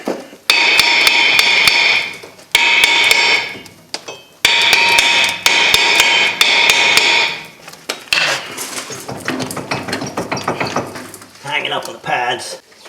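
Metal hammer blows ring out on the rusted rear brake drum of a 2005 Chevrolet Suburban 1500 4x4, in several bursts of quick, loud strikes with bright metallic ringing, followed by lighter clanking and rattling.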